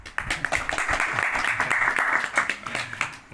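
Attendees at the opening of a student organization's plenary session give dense, sustained applause, with a few louder claps standing out and faint voices underneath.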